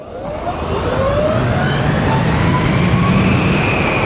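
A Livewire Del Mar electric motorcycle at full throttle in a tunnel: a loud, rising electric motor whine climbs steadily in pitch over a constant roar of wind and road noise.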